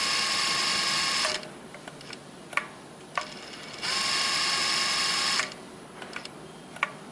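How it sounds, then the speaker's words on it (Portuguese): A BRACOB BC9100 direct-drive straight-stitch industrial sewing machine speeds up and sews in two sustained bursts, with a brief stop between them and a few sharp mechanical clicks in the quieter gaps. "eu entro para costurar novamente, eu acelero, ó, faz o primeiro ponto lento"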